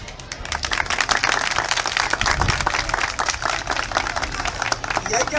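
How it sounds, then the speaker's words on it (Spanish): Audience applause for children at a cultural event in Río San Juan, a dense burst of clapping that fills the whole stretch, steady and fairly loud. "hay que aplaudir a los niños"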